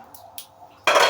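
Chili sambal cooking in a pan, heard as a few light clinks of utensil on metal and then a loud close burst of hissing sizzle at the end.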